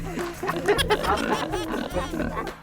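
Loud, harsh squeals from a pig in Benguet during a ritual feast, coming in repeated shrill bursts close by, with voices faintly mixed in underneath.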